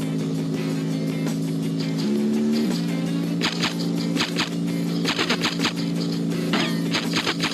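Engine revs rising in steps as a car accelerates in the game Interstate 76, a loud steady drone climbing in pitch with sharp bursts of gunfire punctuating the second half.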